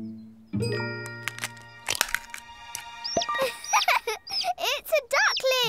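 Cartoon egg cracking open as a duckling hatches, a few sharp cracks and tinkling ding-like accents followed by chirpy, squeaky cartoon vocal sounds.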